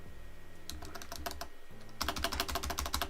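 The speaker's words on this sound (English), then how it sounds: "Now you should hear keyboard" Typing on a computer keyboard with noise suppression turned off, quiet close clicks in an irregular patter that pauses briefly, then returns faster and denser over a faint background hum.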